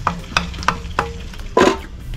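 Crayfish fry in a pot, with sizzling, several sharp stirring scrapes at a fairly regular pace, and a louder burst of sizzle near the end, close by.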